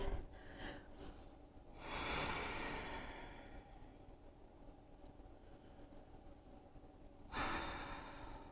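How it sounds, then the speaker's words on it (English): Deep breathing during a hatha yoga flow: slow, audible inhales and exhales close to the microphone, one long breath in the middle and another near the end, with no talking. "take a nice deep breath"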